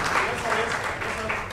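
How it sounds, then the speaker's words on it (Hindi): Audience applause at a poetry open mic awards event, steady dense clapping throughout with a muffled voice partly audible beneath it. "और ये ताली बजा दीजिए"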